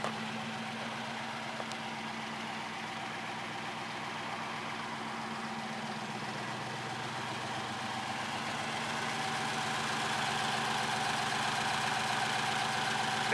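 A Rover V8 fitted in a Jeep runs at a steady idle, with an even, continuous mid-low engine drone that holds close and constant throughout and swells slightly toward the end.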